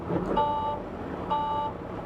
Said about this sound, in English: Now you hear your low air alarm is working.